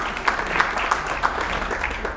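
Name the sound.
round of applause from audience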